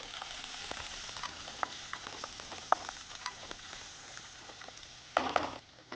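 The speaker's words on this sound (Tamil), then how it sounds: "இதில் புதினா, கொத்தமல்லி, வெங்காயம் இது போட்டு நல்லா வதக்கிறோம்" Mint, coriander and onion sizzle and crackle steadily in a hot pan with green chillies, with scattered pops and a brief louder stir near the end.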